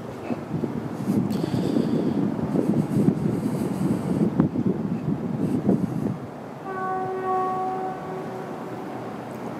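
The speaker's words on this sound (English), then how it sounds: "And I just heard a TEXRail horn." A TEXRail commuter train rumbles past a station, and then its horn sounds one sustained, multi-tone blast at moderate distance over a softer background.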